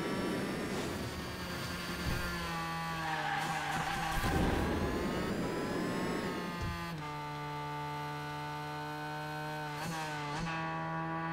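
Race cars brake and skid in the Hot Wheels Unleashed video game, sustained engine whine with tire squeal and shifting pitch sweeps, layered over game sound.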